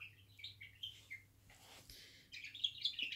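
A pet bird named Frankie, newly brought home, gives a few short high chirps and tweets close by in a quiet room, sparse at first and then a quicker burst near the end.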